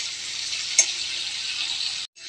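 A paste of ginger, cumin and chilli fries in oil in a pan and is stirred, giving a steady, bright close-up sizzle that cuts off abruptly near the end.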